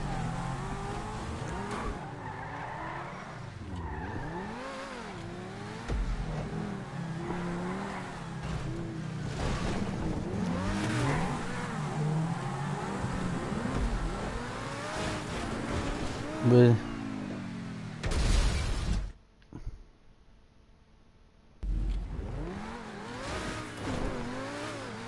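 Car engine from GTA gameplay revving and droning steadily with tire squeal and skids, harmonic sweeps rising and falling, a brief dropout near the end, with talk over parts.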